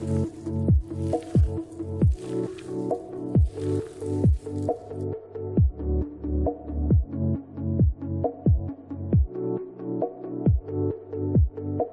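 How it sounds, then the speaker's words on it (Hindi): Kofta curry stirred and mixed in a pan, producing loud, steady squelching sounds that repeat in a regular rhythm about once a second, close and alone. "अब हम इसको मिक्स कर लेंगे।"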